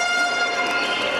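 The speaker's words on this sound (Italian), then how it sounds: "c'è il fischio del direttore di gara, Bassoni" A referee's whistle at a Serie B basketball game between Pino Dragons Firenze and Sangiorgese, heard as a sustained, fairly loud, steady tone with harmonics lasting over a second, with no talk over it.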